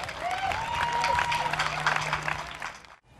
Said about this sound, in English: give yourselves a round of applause, because you deserve it